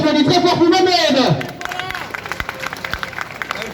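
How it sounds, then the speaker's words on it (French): At a protest rally in Essen, a voice speaks over a loudspeaker, then a crowd breaks into clapping and scattered cheers that carry on briskly with background chatter. "on va applaudir très fort pour Mohamed."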